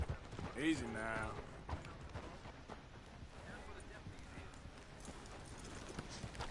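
Steady hooves clip-clop at a trot beneath a brief voice and a rising whinny-like call, with faint background noise.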